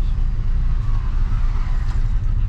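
Motorcycles passing on a road by an ecological park, a steady close engine roar with continuous low rumble throughout, no voices over it.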